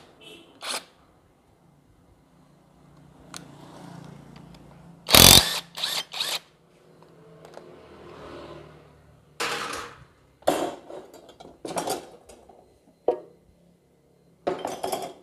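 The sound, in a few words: wrench loosening crankshaft pulley bolt on Suzuki Katana engine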